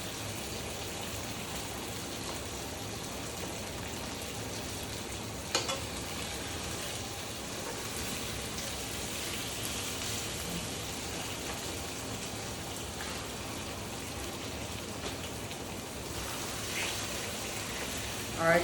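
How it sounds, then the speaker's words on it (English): Salmon fillets fry in a pan with a soft, steady sizzle and crackle, quiet and close, broken by an occasional small click. "we'll cook it for 3 minutes on this side"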